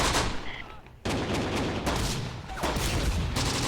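8.8 flak guns firing in the Close Combat video game, dense booming gunfire with repeated heavy reports over a rumbling battle background, loud and close, with a sharp new burst about a second in.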